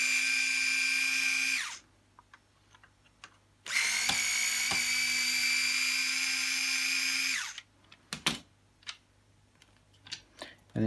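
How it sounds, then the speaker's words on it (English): A powered screwdriver backs out two screws from an Emmaljunga stroller's suspension joint, giving two close whirring bursts of about two and four seconds. Quiet clicks and taps of handling follow. "you just want to remove these two screws in order to remove the joint."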